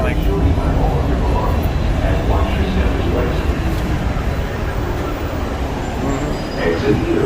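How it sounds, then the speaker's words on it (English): The DFW Skylink airport tram rolls along with a loud, steady rumble of wheels and motor, with muffled voices mixed into the constant ride noise. "We're gonna get off the tram now."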